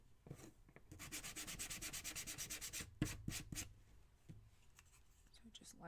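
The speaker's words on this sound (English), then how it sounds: "I'm gonna sand over this lightly" Light sanding of a small DIY mini basket kit, with a steady run of rhythmic rasping strokes and then a few slower scrubs and soft taps, close and quiet.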